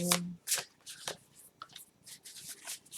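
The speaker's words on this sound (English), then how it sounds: "I'm going to mix these two cards in again, and then shuffle, shuffle," Tarot cards riffled and shuffled in quick papery bursts, close up, with soft pauses between each shuffle and no talking.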